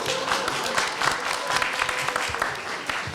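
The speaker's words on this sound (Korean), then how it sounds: "큰 박수로 모시겠습니다" Audience at a Korea University speech contest breaks into sustained, dense applause, steady and fairly loud throughout with no pauses.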